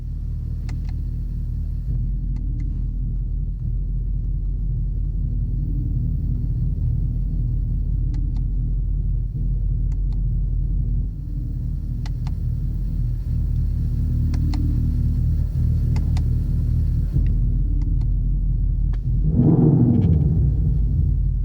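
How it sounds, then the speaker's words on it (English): A Dodge Charger EV's simulated engine sound in sport mode, a steady low, buzzy drone filling the cabin throughout, with a rumbling swell near the end and scattered light clicks. "the car gets louder and buzzier"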